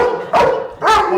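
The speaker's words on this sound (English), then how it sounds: "I can give him one command and he'll start barking" Police K9 dog barking on command, two loud, close barks separated by a short pause, heard alone.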